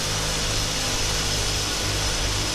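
Alaska Airlines jet engines roar behind the player's aircraft in Flight Simulator X, a dense, steady broadband drone heard alone and fairly loud throughout.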